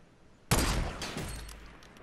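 A loud shotgun blast fires in Fortnite, one sudden close crack followed by a rattling burst and a decaying echo over the next second and a half, with no talking.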